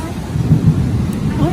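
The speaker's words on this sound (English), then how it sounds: "Oh, tiếng sấm thunder." Thunder rolls in a low, continuous rumble lasting the whole moment, fairly loud and steady without a sharp crack, over a faint background of outdoor noise.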